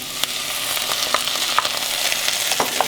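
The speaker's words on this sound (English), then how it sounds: "Let them sizzle away for about 5 minutes until you start to see some color on them." Peppers and vegetables for a vegan black bean soup sizzle steadily in a pan, a close, even crackle with small pops and occasional stirring scrapes throughout, no voices.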